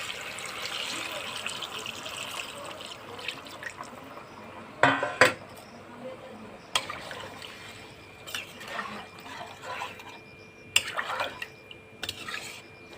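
Water poured into a pan of pointed gourd curry with prawns in a home kitchen, a soft splashing pour with a few clinks of a pot and utensils, mid-distance and fairly quiet against steady background noise.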